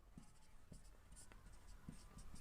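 A pen scratches on paper in short, quiet strokes while someone works a geometry problem about a solid sphere, soft close scribbles under a steady background hiss.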